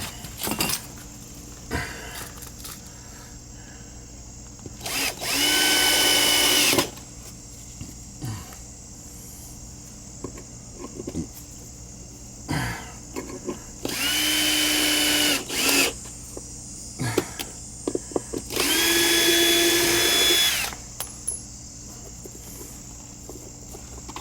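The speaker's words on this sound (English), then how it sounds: "Get a couple of screws loose now." A power drill loosens screws on a newly installed outdoor shower. It runs in three separate close bursts of one to two seconds each, with a steady motor whine, against faint outdoor ambience and occasional clinks.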